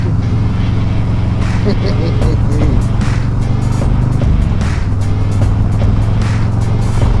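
Motorcycle on a first ride of the year, engine droning steadily and loudly throughout with wind noise and shifting engine tone, mixed with road rumble.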